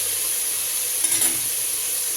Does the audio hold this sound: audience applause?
no